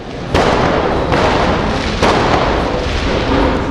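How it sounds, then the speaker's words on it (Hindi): Loud, dense crackling of firecrackers going off continuously, with a few sharper bangs standing out from the barrage. "कितना पटाखा छोड़ रहा है"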